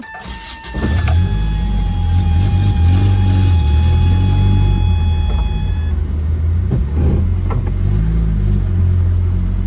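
Car engine idles steadily after an automatic to manual five-speed transmission swap, a close, continuous low rumble with a whine above it, broken by a few clicks and knocks.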